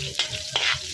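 Garlic browning with red onions in a hot pan, a steady sizzle broken by a few quick stirring scrapes, close and moderately loud with no voices.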